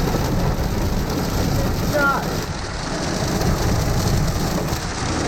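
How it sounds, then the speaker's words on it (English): Pea-sized hail and heavy rain pound down in a severe thunderstorm between Dalby and Toowoomba, a dense, loud, continuous roar of impacts, with a brief spoken exclamation over it. "Pea-sized hail."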